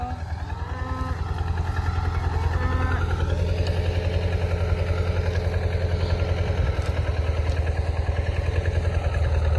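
A T-40AM tractor engine idling at low throttle, fitted with a plow, putters in a steady, rapid, even rhythm close by; a brief tonal whine sounds over it early on.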